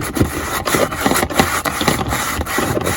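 Plastic edges hand-sanded with 120 grit orbital sander paper, close and loud, a steady rasping rub in quick back-and-forth strokes of roughly a third of a second each.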